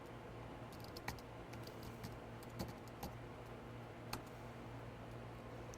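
Keystrokes on a computer keyboard entering a show DMVPN command during network router configuration, a handful of sharp, sparse clicks spread over several seconds above a steady low electronic hum, no talking.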